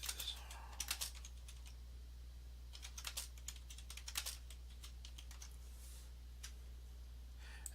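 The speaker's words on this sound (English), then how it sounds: "we'll type in this" Someone types on a computer keyboard in short bursts of quick, light key clicks with brief pauses between, close and fairly quiet.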